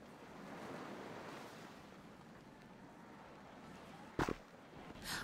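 Ocean waves washing against the shore in Vampire: The Masquerade – Bloodlines, a steady soft surf with wind, followed by a brief sharp burst near the end.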